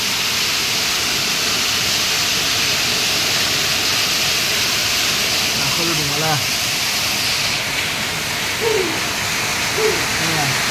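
A heavy Mumbai downpour sends rainwater rushing down steps in a loud, constant waterfall-like roar, while someone talks intermittently over it.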